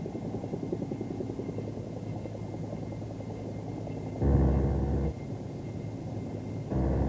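A Bell AH-1 Cobra attack helicopter with a steady, close rotor chop and engine drone that swells louder for two brief stretches.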